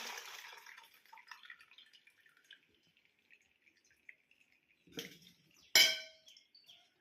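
Water pours out briefly from boiled cluster beans, then trickles and drips as it drains, followed by a couple of sharp clinks of a pot or utensil.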